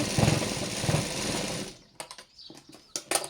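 A sewing machine whirs steadily while stitching a blouse, then stops, leaving a few short clicks and handling taps of cloth and parts nearby.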